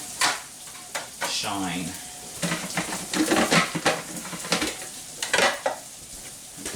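A grilled Mexican corn blend with chilies sizzles in a soup pot as it is stirred, with scraping and clinking of the spoon against the pot in uneven bursts and a brief voice.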